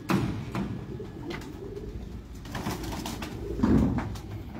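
A teddy pigeon in a Lahore loft gives low, throaty coos in several bursts, close by, against a steady background murmur.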